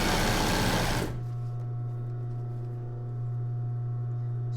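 A sewing machine stitching embroidered tulle for a bra, a loud close burst of about a second that stops abruptly, leaving only a faint steady hum.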